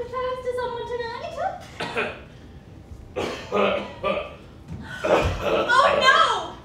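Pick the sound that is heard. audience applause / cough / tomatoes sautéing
cough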